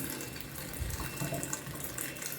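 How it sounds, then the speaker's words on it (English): Water runs steadily from a kitchen tap, a close, continuous splashing into the sink with no voices. "This is the tap. Tap is running water."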